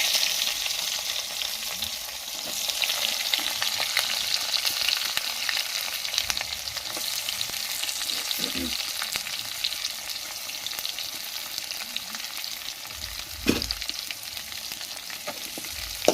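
Spices and onion frying in a pan for a corn curry, a loud continuous sizzle with frequent scraping of a spoon against the pan and a couple of heavier knocks.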